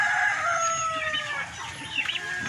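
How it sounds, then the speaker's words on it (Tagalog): Chickens on a farm that keeps Chinese Silkie, Ayam Cemani, Rhode Island Red and Shamo breeds alongside turkeys, with a rooster crowing in long drawn-out calls over steady clucking from the flock, close and loud with no talk. "Manok."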